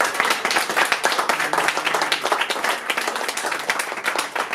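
Guests at Marie's 90th birthday party clap, a close, lively patter of separate hand claps from a smallish group, fairly loud and uneven, continuing throughout with no talk.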